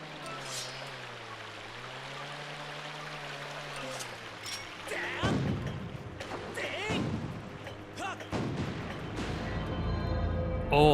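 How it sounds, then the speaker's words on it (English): Ship cannon fire in the Zelda Skyward Sword video game: several loud, booming blasts burst out in the second half over steady tonal game music, each followed by a short rumbling tail. "We must pursue and keep pounding it with the cannon."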